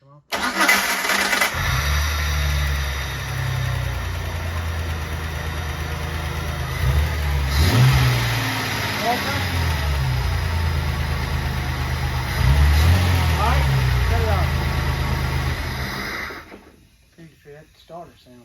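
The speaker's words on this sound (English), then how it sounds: "That starter sounds funny, don't it?" A Jeep's starter cranks with a steady low churn for several seconds, then the engine catches and runs loud and close before cutting off near the end, with an odd, uneven starter tone.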